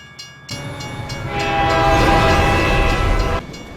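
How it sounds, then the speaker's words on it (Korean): A train passing and blocking the road in a film: a loud, sustained horn over the heavy rumble and rattle of railcars, building and then dropping off near the end. "얼마 가지 않아 기차가 앞을 가로막는군요"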